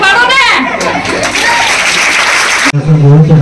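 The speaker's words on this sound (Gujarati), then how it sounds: "જોરદાર તાળીઓ પાડે છે" Loud crowd clapping at a primary school uniform distribution event in a village, dense and sustained for about two and a half seconds before cutting off, followed by a brief burst of sound.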